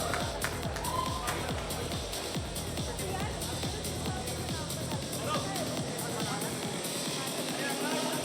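Audience applause at an Ayurveda gathering in Rishikesh, a dense and steady wash of many hands clapping that carries on throughout, with crowd murmur and voices mixed underneath.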